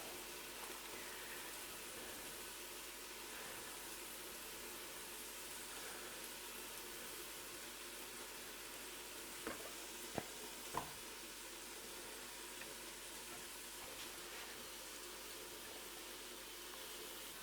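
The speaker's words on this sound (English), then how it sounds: "vegetables are sauteing" Vegetables sauté in a pan with a soft, steady sizzle, quiet and continuous, with a few small clicks of utensils partway through.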